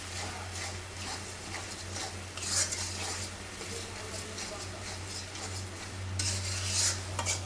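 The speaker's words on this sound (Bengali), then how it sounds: "এখন মশলাটা কষানো হচ্ছে" A spice paste being stirred and sautéed in a pan, with soft scraping strokes and faint sizzling over a steady low hum, some louder clatters near the start and end, fairly quiet overall.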